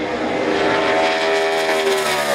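A NASCAR Sprint Cup stock car at the 2015 Ford EcoBoost 400 screams past at high revs, its engine tone loud and steady with a slight pitch rise as it nears, alone without talk.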